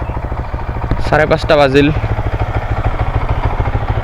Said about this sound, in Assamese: আৰু বাইকখন উলিয়াই জাষ্ট কল ষ্টাৰ্ট দি দিলোঁ। আৰু আপোনালোকে হয়তো গম পাইছে আকৌ ষ্টক এক্সজষ্ট আহি গৈছে গাড়ীখনত